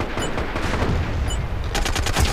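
Sniper fire in the MAG online shooter: a couple of sharp cracks amid dense battlefield noise, then a rapid burst of repeated shots near the end, loud and close.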